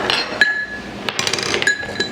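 A spoon stirs salt into water in a glass, clinking sharply against the sides in a quick, irregular series of close taps.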